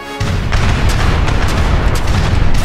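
Ship cannon fire in the video game Age of Empires III: a sudden loud boom followed by a sustained rumbling barrage of overlapping cannon blasts and explosions, dense and continuous for a couple of seconds with no talk.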